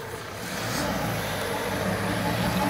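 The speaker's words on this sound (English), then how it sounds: "As you can see, this thing's spinning wheels plenty." A Ford Ranger Raptor or Toyota HiLux Rugged X pickup climbing a wet rutted hill, engine revving steadily louder as the wheels spin, close and continuous with no voices.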